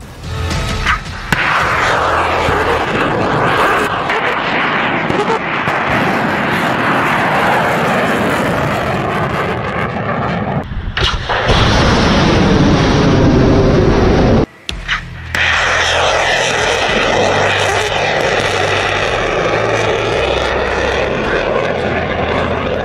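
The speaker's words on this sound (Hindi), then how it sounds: "और इसीलिए ये मिसाइलें बार बार फायर की जा रही हैं।" Russian missiles launched again and again in Russia-Ukraine war news footage: a loud, continuous roaring rush that swells and holds for long stretches, broken by a brief drop to near silence before the roar returns.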